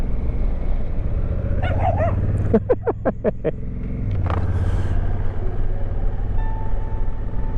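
A dog barks in a quick burst of about six sharp, close barks during a motorbike tour in Cumbria, over the steady low rumble of an idling motorcycle engine.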